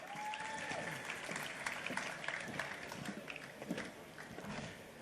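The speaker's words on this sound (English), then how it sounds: "Round of applause, ladies and gentlemen" A round of applause rises at the Botswana Sport Awards ceremony, a crowd's dense clapping heard at a distance and fairly quiet, with a faint tone sounding briefly at the start.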